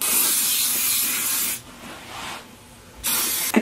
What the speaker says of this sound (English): I've just sprayed some hairspray through my hair